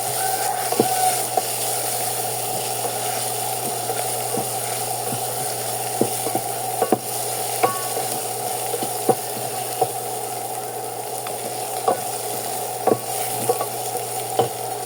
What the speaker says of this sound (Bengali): আদা রসুন পেস্টটা একসাথে করা হয়েছে, দিয়ে আমি ভালো মতো তেলে ভাজা ভাজা করে নেব